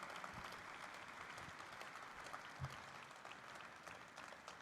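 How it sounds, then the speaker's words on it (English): Steady applause from the audience at an IPO listing ceremony for Travel Food Services Limited, a faint, continuous wash of many hands clapping with a few brief louder bumps. "Can we have a round of applause for everybody?"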